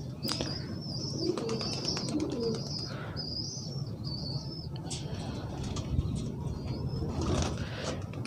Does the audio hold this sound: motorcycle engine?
no